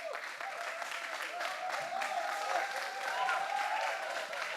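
Applause from an audience at a building and architecture student event, a steady spread of clapping at moderate distance, with faint voices and cheers mixed underneath.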